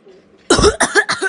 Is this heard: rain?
no